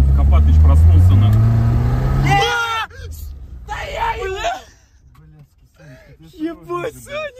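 A car pulls away hard in first gear, its engine revving loud and rising for a couple of seconds before it cuts off, followed by excited shouting and yelling from people inside.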